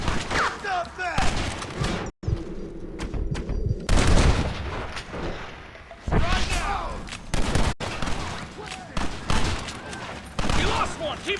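Gunfire from a Western shootout in the video game Red Dead Redemption, with repeated loud shots and booming volleys that come in bursts, mixed with shouting voices and game sounds and broken by short pauses.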